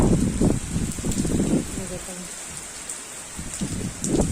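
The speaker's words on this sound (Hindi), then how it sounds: "तो देखते हैं कितनी देर चलती है बारिश" Steady rain falling, swelling heavier and easing lighter in turns, with a constant wash of drops and low rumbling gusts throughout.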